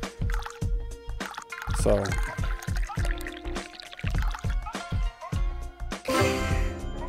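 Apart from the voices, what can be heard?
pouring green tea in video game Dave the Diver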